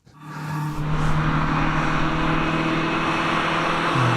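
Bright orange Datsun 1600 race car at a hillclimb, its engine rising abruptly to a loud, sustained, steady drone close by, holding high revs with a slight pitch step near the end.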